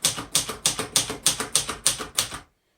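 Typing on a 1962 Royal Signet portable typewriter: eight or nine sharp, evenly spaced key strikes close up, loud and crisp, then sudden silence.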